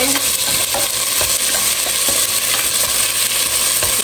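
Tomatoes mashed and stirred in a pot while shrimp sinigang cooks, a steady wet scraping and stirring with soft sizzling underneath and faint metallic clinks, continuous and fairly close with no talking.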